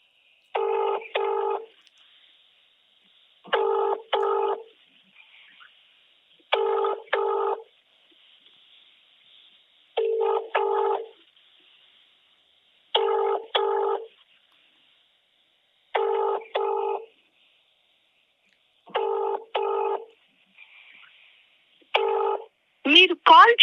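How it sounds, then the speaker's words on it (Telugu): A phone call rings out unanswered, repeating double-pulse ringback tones at steady intervals of about three seconds, clear and alone. "ఒకసారి ఆయన కాల్ చేద్దాం, రింగ్ అవుతుంది"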